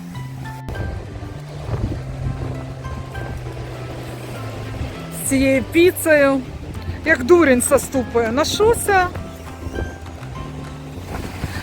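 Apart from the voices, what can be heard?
sea waves at the Chornomorsk shore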